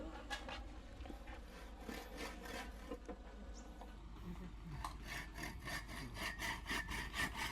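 A dull hand saw cuts through wood while a small rural hut is being built. Steady back-and-forth strokes repeat in an even rhythm, close by and moderately quiet.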